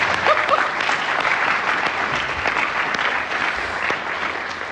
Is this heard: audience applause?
yes